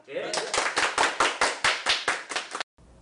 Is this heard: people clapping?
yes